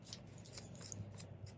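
Quiet scissors snipping loose bobbin threads from freestanding lace embroidery, several small crisp cuts in quick succession close to the mic.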